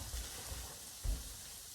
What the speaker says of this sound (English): I'm just putting the frozen corn in there now.